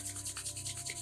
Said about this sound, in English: bring your palms together and rub your palms very fast